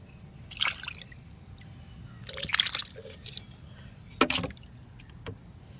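Liquid fertilizer poured around the base of garden plants into loosened soil, heard as a few short splashing pours and trickles spaced apart, fairly close and quiet.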